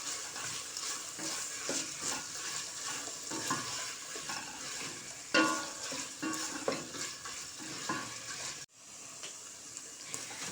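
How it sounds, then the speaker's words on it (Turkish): Leeks sautéing in a pan for a sour, spicy leek dish with carrots and rice, a soft steady sizzle with intermittent stirring scrapes, moderately quiet and close, briefly cut near the end. "Pırasasını da kattım. Kavurmaya devam."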